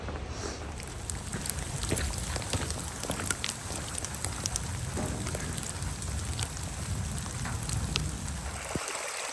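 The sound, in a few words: heavy rain and running water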